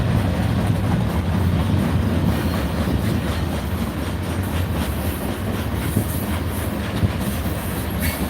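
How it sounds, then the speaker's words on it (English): A long coal train rolls past on a railway, its steady rumble and clattering wheels loud and continuous throughout, with faint squeals of wheels on rail rising now and then. "Some of these coal trains are pretty long, so it might be more than 2 minutes."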